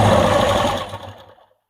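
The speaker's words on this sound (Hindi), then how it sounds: "फिर इसको एक बार फिर ऐसे फोल्ड करेंगे और हमें यहाँ पे कच्ची सिलाई करनी है।" A sewing machine stitching fabric for palazzo pants runs loudly and steadily up close, then slows and stops within about a second and a half, leaving silence.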